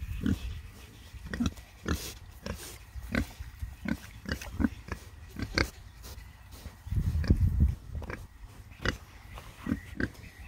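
A pig named Penny grunts and oinks repeatedly at close range while munching on grass, the short snuffling grunts coming in an uneven rhythm with a louder cluster toward the end.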